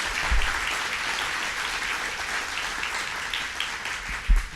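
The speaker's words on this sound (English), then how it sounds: "let's give him a round of applause and welcome him to Niagara" An audience at a Niagara Falls announcement by the governor applauds, a steady wash of clapping held at a moderate distance for several seconds and swelling briefly near the end.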